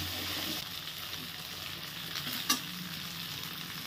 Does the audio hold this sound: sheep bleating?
no